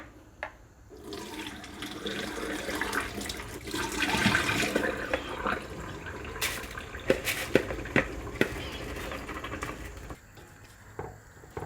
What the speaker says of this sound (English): we need to do is to rinse the rice until the water comes out clear. So it's helpful if you use a strainer.